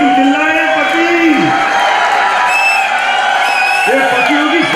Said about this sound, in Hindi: ये पति चिल्लाए हैं